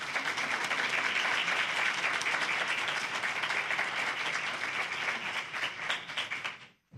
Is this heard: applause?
yes